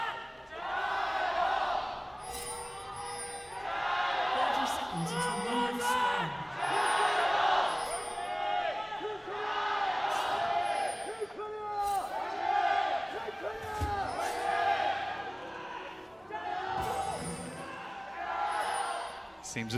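An esports crowd cheers at the 2018 Asian Games League of Legends final between Korea and China. The roaring, swelling arena noise runs continuously beneath steady commentator talk.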